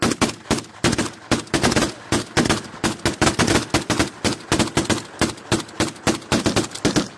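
Rapid bursts of gunfire from soldiers firing on a hilltop post, with sharp repeated shots and automatic volleys running continuously and loud throughout, close to the listener.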